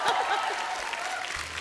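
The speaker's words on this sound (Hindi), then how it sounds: "एक बार जोरदार ताली हो जाए" Studio audience applause on a Hindi television comedy show, a steady wash of clapping with some voices faintly on top, brief and moderately loud throughout.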